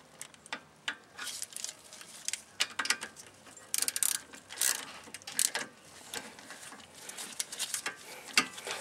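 A 13mm socket ratchet tightens a nut on the front brake caliper of a 2009–2012 Hyundai Elantra, giving short, close runs of sharp clicking in irregular bursts with no speech.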